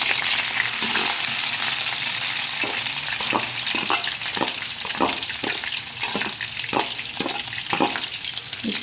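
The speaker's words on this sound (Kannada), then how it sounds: "ಇವಾಗ ನಾವು ಹೆಚ್ಚಿಟ್ಕೊಂಡಿರುವಂಥ ಈರುಳ್ಳಿ ಹಾಕ್ತಾಯಿದ್ದೀನಿ." Chopped onions fry in cooking oil for pav bhaji, a loud dense sizzle with regular scraping strokes of a stirring spatula, no talking.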